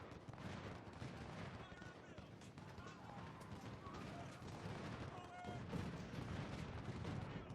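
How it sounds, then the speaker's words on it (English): Infantry musket volleys crackle and rumble continuously in a Civil War battle game, layered into a dense din of distant and near gunfire. "just keep throwing volleys into the enemy"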